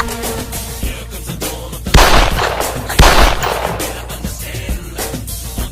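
Gunshots fired during shooting training in a film, two loud sharp blasts standing out above a busy background of clatter and noise, with no talk.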